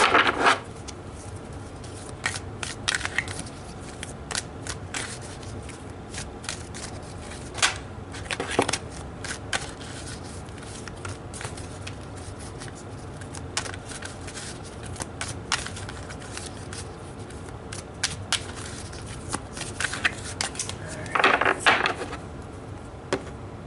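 Tarot cards being shuffled by hand, with repeated soft riffles, slides and taps at close range over a quiet room hum and a brief louder flurry near the end, with no talking.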